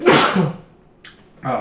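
A single sharp sneeze bursts out close to the microphone in a quiet room. A brief murmured word follows after a short pause.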